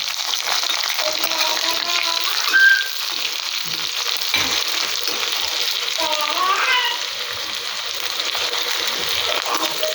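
Onions and dried red chillies frying in hot oil produce a steady, dense sizzle throughout, with a brief stirring clatter, while voices talk over it.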